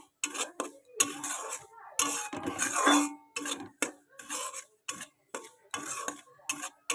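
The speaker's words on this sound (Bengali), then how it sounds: "সুজিটাকে খুব সুন্দর করে ভেজে নেব আমি দেখো কত সুন্দর করে ভেজে নিচ্ছি" Semolina (suji) roasting in a pan, stirred with a utensil that scrapes and clinks in a quick, irregular rhythm of taps and scrapes, close and fairly quiet, with no voices.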